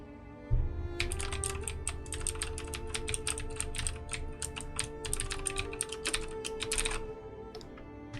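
Someone types steadily on an old computer keyboard without a number pad, rapid close clicking keystrokes in bursts with short pauses, alone with no talk.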